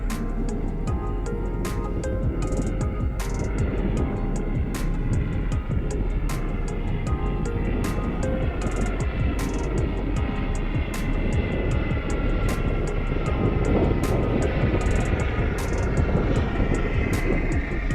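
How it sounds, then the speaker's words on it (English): Steady broadband engine roar of a helicopter passing overhead above a UK beach, loud and continuous, with a rhythmic rotor thumping. "we've got an helicopter coming right over me"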